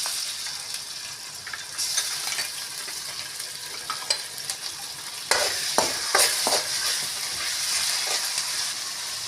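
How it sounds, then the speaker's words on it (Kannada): Ginger garlic paste sizzles in hot oil with a steady hiss, while spoon scrapes and knocks against the pan come through in irregular bursts, close and uninterrupted by speech. "ಇವಾಗ ಶುಂಠಿ ಬೆಳ್ಳುಳ್ಳಿ ಪೇಸ್ಟ್ ಹಾಕ್ತೀನಿ"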